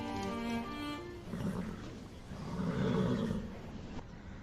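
A horse in a stable gives a drawn-out whinny at the start, followed by breathy, rumbling snorts and nickers, close and moderately loud.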